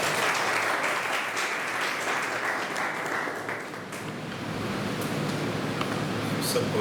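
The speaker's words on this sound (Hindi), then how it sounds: "आइए आप तालियों के साथ।" A church congregation at a Sunday service applauds together, a broad, continuous wash of clapping that holds steady for several seconds with a faint voice underneath.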